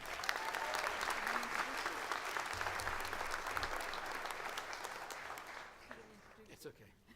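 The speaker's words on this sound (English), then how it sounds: "Let's give another round of applause for Dr. Joanne Mulqueen" Sustained applause from a commencement ceremony crowd, steady dense clapping that fades slightly toward the end, with some voices mixed in.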